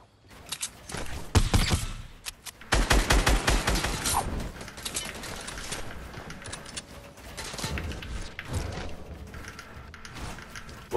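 Gunfire in Fortnite sounds as rapid bursts of automatic shots and scattered single shots at close range, with quieter gaps and mechanical clatter between volleys.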